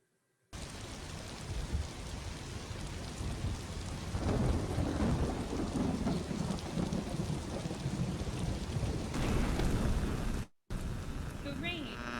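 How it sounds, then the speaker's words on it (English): Heavy rain pours in a dense, steady hiss with low thunder rumbling through it, swelling louder midway, then a brief cut before the downpour resumes. "The rain."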